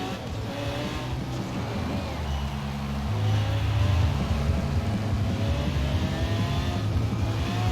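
A Mitsubishi Lancer drives in a Forza Horizon 4 game race, giving a steady, loud engine drone with rising and falling pitch and a slight swell midway, alone without talk.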